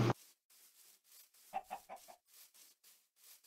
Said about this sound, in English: Cluck of the chicken.